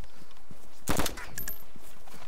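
A single M4 rifle shot cracks out in the DayZ game world, one sharp loud burst with a short decaying tail against a quiet ambient background.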